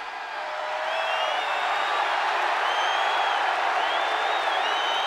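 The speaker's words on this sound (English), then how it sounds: "One name and the crowd erupts." A wrestling arena crowd at a 1998 pay-per-view event erupts into sustained, loud cheering and whooping, swelling within the first second and holding steady as a dense wall of voices and applause.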